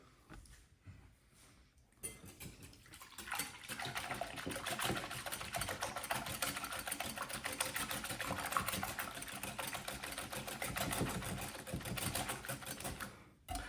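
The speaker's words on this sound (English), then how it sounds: "start whisking" Eggs and milk whisked together in a bowl for crêpe batter, a fast steady rattling clatter that begins after a quiet moment and keeps going, close and fairly loud.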